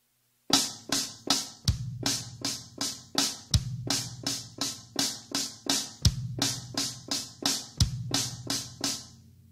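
A drum kit plays a repeating 7-and-5 phrase with the bass drum laid out in 3/4, a steady stream of crisp close strokes punctuated by periodic deep kick hits, with no talking.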